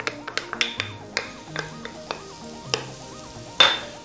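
Pepper going into a pot of caldo de feijão, a bean broth, with a soft sizzle under a string of quick taps and clinks, then a louder burst of sizzling near the end.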